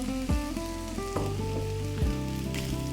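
Cold cooked rice frying with carrots in a hot pan for Indian carrot rice, a steady close sizzle with periodic scraping knocks from stirring, no talk.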